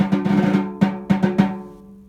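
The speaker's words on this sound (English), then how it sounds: "And then at tempo, it'll sound like a buzz roll." Snare drum buzz strokes played at tempo, several sustained rolled notes with sharp re-attacks near 0.8, 1.1, 1.25 and 1.4 seconds, close and fairly loud, blurring into a buzz roll.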